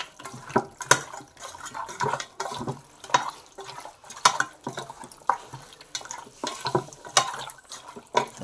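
Marinated chicken for spicy chicken kosha being hand-mixed in a bowl, wet squelching and slapping in irregular, repeated bursts, close and fairly quiet, with no talking.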